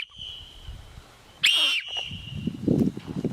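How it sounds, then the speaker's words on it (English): A piercing, extremely loud super whistle rated around 142 dB bursts in for about a third of a second, standing out sharply over quiet background noise and faint rustling. "what they call a super whistle that supposedly hits 142 dB"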